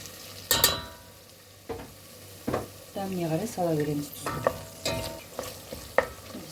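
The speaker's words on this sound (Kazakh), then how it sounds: "Біздің етіміз жақсы қуырылып жатыр." Meat frying in a pan for soup, sizzling under a stirring spoon that scrapes and clatters in irregular strokes, while a person talks briefly.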